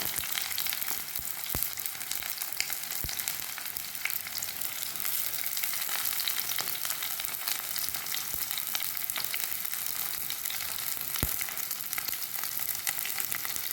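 Onion, ginger, curry leaves and garlic sizzling steadily in oil for a fish curry, a constant close frying hiss with occasional sharp crackles and no talk.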